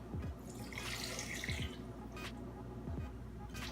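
Water poured into a smoothie makes a brief splashing rush lasting about a second, followed by a short trickle, over a low hum of background voices.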